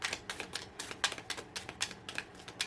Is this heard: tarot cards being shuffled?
yes